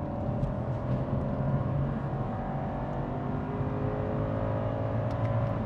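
A BMW petrol car with a Stage 1 tune accelerates at full throttle through a long gear, its engine droning steadily with rising harmonic whine, heard from inside the cabin without talk.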